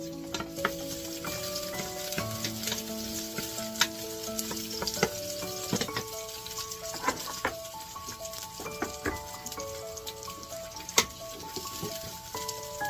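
Ginger and garlic stirred in a hot pan for Korean spicy seafood noodles, a steady close sizzle broken by repeated scraping and clinking utensil strokes, quiet overall and with no voices.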